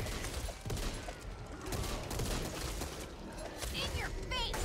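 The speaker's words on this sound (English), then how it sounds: "Please stop shooting me." Rapid bursts of gunfire from the co-op zombie shooter Back 4 Blood crackle densely throughout, loud and continuous, mixed with chaotic game noise and occasional talk.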